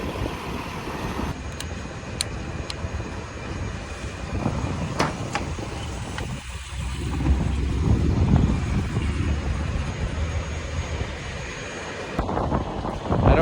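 The engine of a Bombardier tracked swamp vehicle runs steadily as a constant, rumbling drone mixed with wind buffeting on the mic, with a few sharp clicks and knocks over it.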